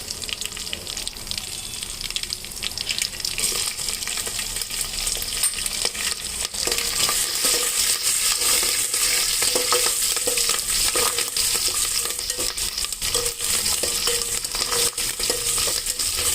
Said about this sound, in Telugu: పచ్చిమిర్చి వేగాలి